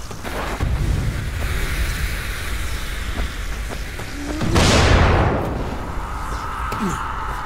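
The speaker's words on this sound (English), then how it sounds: "Big explosion. They're all gonna come running now." A big explosion in the zombie game Dying Light, a loud, close booming blast that bursts out midway and rumbles through a noisy background.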